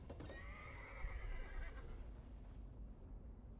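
A horse whinnies loudly in the horror video game Layers of Fear, a long shrill neigh over a dense, rumbling game soundscape, fading into dark ambient noise afterward.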